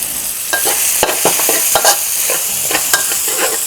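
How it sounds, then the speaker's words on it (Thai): Chilli and garlic stir-fry loudly in a pan for chicken and glass noodle basil stir-fry, with a constant close sizzle and quick, irregular clanks and scrapes of the stirring utensil. "ผัดไปเรื่อยๆครับ เนื้อนะครับ พริกนะครับกับกระเทียมของเรา"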